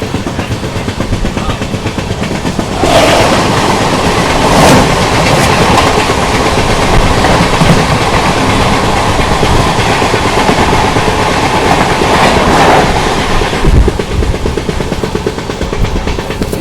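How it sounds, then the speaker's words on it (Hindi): The SMVB Howrah Duronto Express rushes past nearby, a loud sustained roar with rhythmic clickety-clack of wheels over rail joints that swells suddenly and then fades at the end. "ये रही सामने से आ रही है SMVB हावड़ा दुरंतो एक्सप्रेस"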